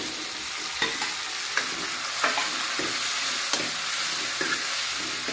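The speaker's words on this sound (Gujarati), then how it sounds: "હવે ટામેટા એડ કરી દઈશું" Chopped tomatoes fry loudly in a hot pan, with a dense, continuous sizzle broken by regular scraping strokes of a spoon stirring them, roughly one every second, with no speech.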